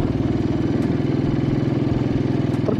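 Motorcycle engine pulling up a paved hill road toward White Gumba at Batase Dada near Kathmandu, a steady loud low throb with rapid regular firing pulses throughout, close and continuous without talk.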